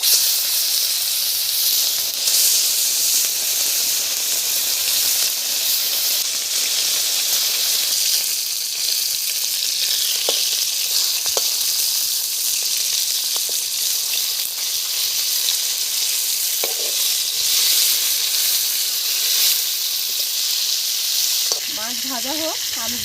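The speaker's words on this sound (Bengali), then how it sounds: "তেল গরম হয়ে গেছে, মাছ ভেজে নিচ্ছি।" Fish sizzles loudly and continuously in hot oil in a village kitchen, a dense steady hiss with occasional pops and a brief utensil scrape near the end.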